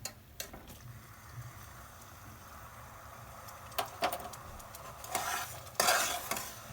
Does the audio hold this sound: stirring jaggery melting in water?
yes